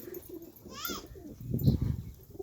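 Racing pigeons coo in a low, throaty murmur close by, with a brief chirp-like sound and some background noise; no speech is heard.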